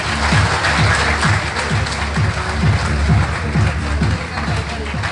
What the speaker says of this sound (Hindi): आपकी भरपूर तालियों में जनाब श्रीमान चेतन बालाज साहब।